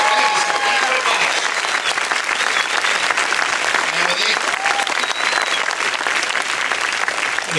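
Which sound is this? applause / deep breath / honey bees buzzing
applause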